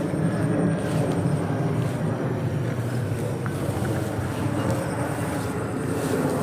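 An airplane passes nearby outdoors, a steady broad roar mixed with wind buffeting on the microphone, loud and continuous throughout with no clear talk.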